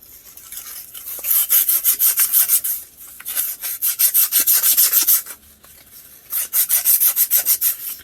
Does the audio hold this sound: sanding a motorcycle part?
yes